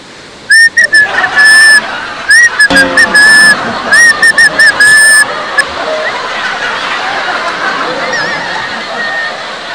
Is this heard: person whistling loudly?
yes